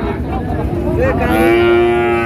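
A Sahiwal bull calf at a busy cattle market gives one loud, close, drawn-out moo that rises and holds, over a noisy crowd background.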